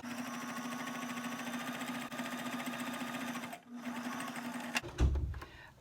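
A sewing machine runs a straight stitch at 2.5 length along a fabric strap for a bow tie, a steady close whir with a short pause partway, then stopping with a few clunks at the end.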